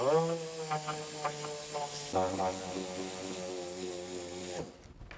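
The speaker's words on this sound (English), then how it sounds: "you want to switch over to the 3-inch. And I've got 60 grit sandpaper on it so we can get into these little holes." A 3-inch dual-action sander with 60-grit sandpaper works on fiberglass, its motor a steady whining hum whose pitch shifts partway through before it winds down near the end.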